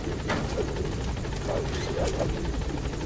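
Helicopter in Metal Gear Solid V: The Phantom Pain arriving, with a steady rotor whir and chopping pulses throughout, moderately loud over a dense rumbling background, with no talk.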